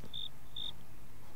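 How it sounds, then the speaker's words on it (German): A cricket in the Minecraft video game gives two short, high chirps about half a second apart, clear over a soft steady background hum. "Ich habe da gerade eine Grille zirpen gehört und da ist die Grille ja auch."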